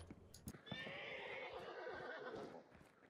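A horse in the video game Hunt: Showdown gives a loud, drawn-out whinny lasting a couple of seconds, with a few clip-clop hoof sounds and thumps around it, close and clear with no talking.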